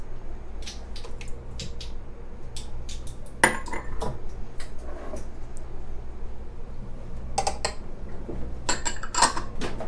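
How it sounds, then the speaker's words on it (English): Eggs and vanilla are beaten by hand into cheesecake cookie batter, a close run of quick irregular utensil clicks and taps against the bowl over a faint background hum, with no talk. "Now we're going to beat in the eggs and vanilla."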